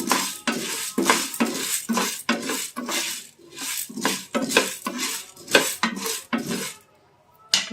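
Coriander seeds and urad dal are stirred in a pan, a spatula scraping rhythmically in repeated strokes against the metal with a dry rattle of seeds, close and loud, ending in a short pause.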